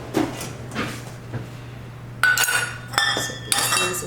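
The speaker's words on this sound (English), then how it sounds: "And then just grab a spoon, mix it up real well." Metal spoon clinking and scraping against a bowl while mixing grated cheese with garlic and onion powder, a series of close, bright taps and scrapes growing busier toward the end, with a steady low hum beneath.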